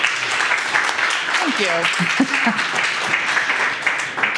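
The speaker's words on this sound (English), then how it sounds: "Please give me a round of applause that Deb is here." Audience at a legal conference fireside chat gives sustained applause, an even wash of many clapping hands, while a voice briefly speaks through it.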